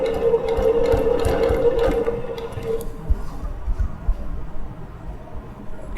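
Longarm quilting machine stitching straight lines and Baptist fan patterns, a steady close mechanical whir with a humming tone that settles lower partway through, running continuously.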